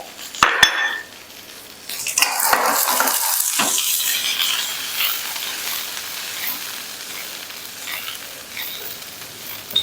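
Julienned capsicum, cut fairly large, stir-fried with split green chilies for dragon chicken, giving a steady hiss and sizzle with a few sharp clanks of a utensil against the pan at the start.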